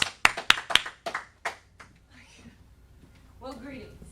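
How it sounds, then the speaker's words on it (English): Hands clap in a quick run of sharp, separate claps at a church gathering, a short scattered burst of applause that fades out as a voice begins to speak. "Give her a round of applause."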